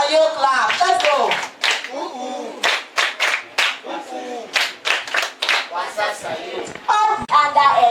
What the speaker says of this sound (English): My Wasasayo clap.